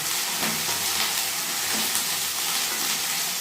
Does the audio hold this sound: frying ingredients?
yes